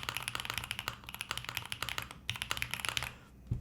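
Typing on a Luminkey75 mechanical keyboard with foam inside, a fast dense stream of close keystrokes with a few brief pauses and no voices.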